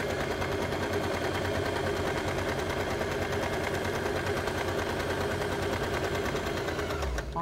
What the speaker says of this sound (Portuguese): Fazendo só uma costurinha reta.